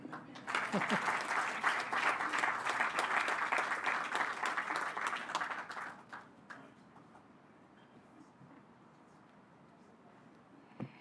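An audience at the official launch of the CPF Group Rwanda office gives a full, steady round of applause for about six seconds before it dies away into quiet room sound.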